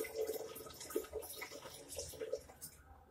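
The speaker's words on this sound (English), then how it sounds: "I'll use the same funnel to pour the yeast" Activated yeast solution pours through a funnel into a bottle with quiet, irregular liquid trickling and gurgling, soft and close, then trails off at the end.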